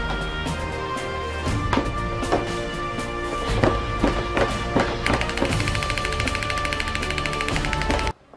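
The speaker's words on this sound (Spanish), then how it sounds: "su fusil también tiene sonidos de disparos" A battery-powered toy soldier with a rifle fires rapid electronic gunshot bursts over the clicking and whirring of its crawling motor, loud and close, ending abruptly.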